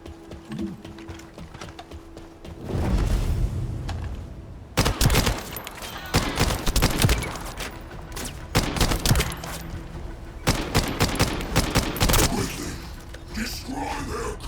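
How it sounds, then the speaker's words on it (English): Video game gunfire in The First Descendant during a raid on a communication center: rapid bursts of shots and sharp impacts crackle loudly through the scene, with game music and brief voices in the background. "am I getting shot at?"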